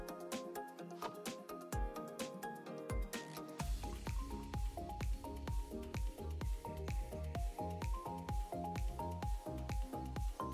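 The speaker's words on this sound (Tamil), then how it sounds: "எல்லா மசாலா பொருட்களையும் ஒன்றாக சேர்த்து கடைசியில் எண்ணெய் விட்டு கலந்துக்கோங்க." Masala paste mixed with oil for a grilled fish fry marinade, soft wet squishing and sticky clicks repeating in an uneven rhythm, close and faint, with no talk.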